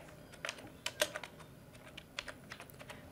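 Computer keyboard typing a job-search term, a quick irregular run of light clicking keystrokes, close and quiet, alone without speech.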